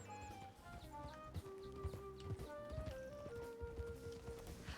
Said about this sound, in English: Wow, that's a fast horse.